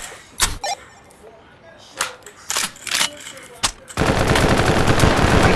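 Machine gun fire in a close-quarters trench fight in a video game: short separate bursts at first, then a continuous loud stream of rapid shots in the final seconds, with voices in the background.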